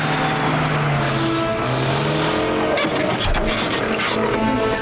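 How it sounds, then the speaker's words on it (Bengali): Cartoon car driving away, an engine whine that holds and drops in pitch, then a burst of rushing noise as it pulls off, moderately loud with no talk. "ওই দেখো ওই গাড়িটা ওই দিকে যাচ্ছে।"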